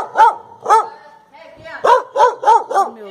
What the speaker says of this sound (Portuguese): Tô com medo do cachorro.